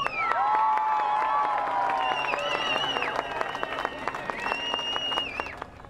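An onshore crowd cheers and applauds a teenage solo sailor returning from his voyage around the world, with loud sustained clapping, whoops and high shouts that fade into scattered claps.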